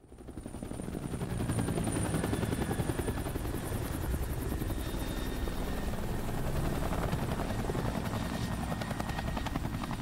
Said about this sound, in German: der Hubschrauber mit der Nummer 88